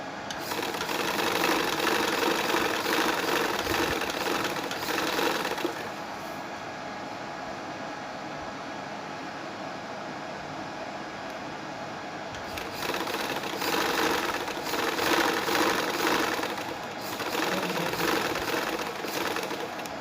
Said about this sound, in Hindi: अब हम बिल्कुल किनारे से सिलाई लगाएंगे।